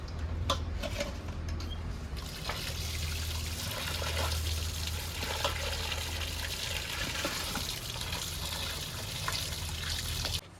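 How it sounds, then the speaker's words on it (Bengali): Water splashes and trickles steadily while salted pangasius fish are rinsed, a continuous close wash of running and sloshing liquid with no talking. "এবার জল দিয়ে ধুয়ে নেব।"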